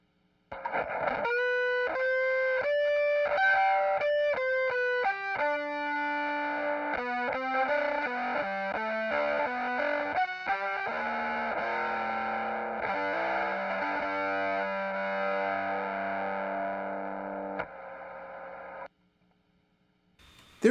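Plucked pizzicato fiddle notes run through a Caroline Guitar Co. Hawaiian Pizza fuzz pedal, a string of distorted, sustaining tones stepping up and down, followed by a brief quiet tail of pedal hiss.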